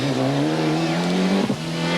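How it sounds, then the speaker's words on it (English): Patrick Snijers' number 3 rally car at the 1995 Ypres 24 Hours Rally in Belgium, its engine droning loud and close, then a sharp rev change and shift as it moves off. "Away goes 2, car number 3,"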